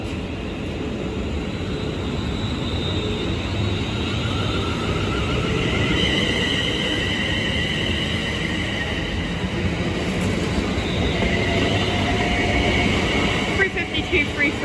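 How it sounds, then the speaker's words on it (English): A London Northwestern Railway Class 350 electric train departs London Euston for Northampton, giving a loud, steady rolling rumble with faint whining tones that shift and rise across the whole stretch, close by and continuous. "Now departing is the 1414 London North Western Railway service from London Euston to Northampton"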